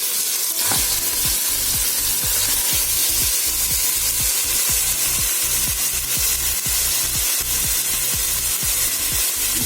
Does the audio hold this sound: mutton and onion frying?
yes